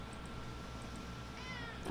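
A cat meows a few times nearby, brief calls over a steady low background hum in an indoor room.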